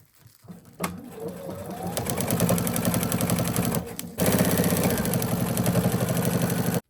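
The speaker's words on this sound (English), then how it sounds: "So I'm going to do a fixed stitch or a back stitch at the beginning, go all the way around" A sewing machine straight stitching minky and fleece runs in a continuous close whir, with a brief pause near the middle before it resumes louder to the end.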